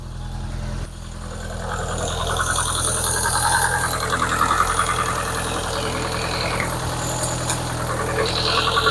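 Rover 25 GTI hot hatch engine just after starting, settling into a steady idle with a constant low drone and faint mechanical ticking, running alone close by at an even level.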